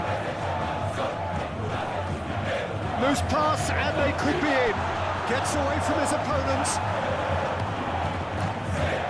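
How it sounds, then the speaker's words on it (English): A stadium crowd roars steadily in the PES 2021 football video game, a dense continuous swell of cheering underneath a commentator's voice calling the play. "the crowd clearly like what they just saw"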